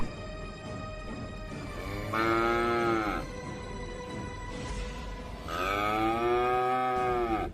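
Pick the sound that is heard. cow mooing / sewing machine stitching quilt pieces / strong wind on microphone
cow mooing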